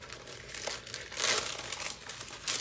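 Tissue paper from a Glossybox beauty subscription box crinkles and rustles up close in several uneven bursts, with no talking.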